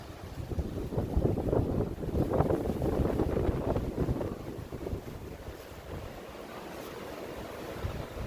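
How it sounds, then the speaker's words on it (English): Gusty wind in Madeley, Telford buffets the microphone, strongest early on and then easing to a steadier, softer rush. "As you can hear, it's a bit windy."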